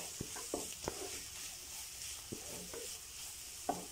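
Garlic, ginger and green chili stir-fried in a pan give a steady close sizzle, with scattered sharp knocks and scrapes from stirring recurring every second or so.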